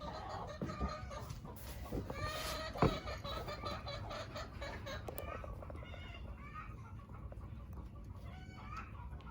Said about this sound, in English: I hear some chickens out there too, letting everybody know they laid an egg